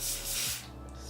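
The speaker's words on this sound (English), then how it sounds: "I always add a little bit of spray to the hairline" Hairspray sprayed onto a wig hairline, a short close hissing burst that fades about halfway through, followed by a softer lingering hiss.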